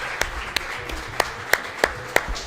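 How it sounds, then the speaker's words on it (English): Scattered clapping for coaches at a girls flag football broadcast, a handful of distinct claps over a low background hum, fairly sparse and moderately close. "Should we clap it up for the coaches?"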